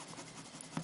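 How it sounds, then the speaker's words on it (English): A Stampin' Up rub-on transfer is burnished onto paper with a brief, faint, steady rubbing scrape that ends in a small tap, very quiet and close. "I'm going to rub that onto the image. And basically what I'm doing here is called burnishing."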